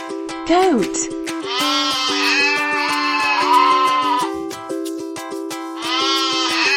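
Loud, wavering goat bleats come in several long bursts close to the listener, with a brief sharp cry at the start, all over a constant musical backing.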